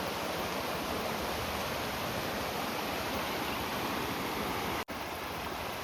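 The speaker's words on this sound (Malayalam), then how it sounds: "കാടിനുള്ളിൽ നിന്ന് ഉത്ഭവിച്ചു വരുന്ന പുഴ കണ്ടോ" A forest river flowing out of the jungle through a rural village area toward Chinnar dam gives a steady, dense rush of water that fills the whole clip, with one brief dropout near the end.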